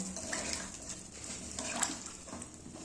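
Hot water is poured into a Bengali-style kosha aloo dum potato curry in the pan, giving a soft, steady stream of splashing that carries on throughout.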